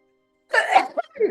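A single sharp sneeze bursts out after a moment of near silence, followed by a short sniffly breath.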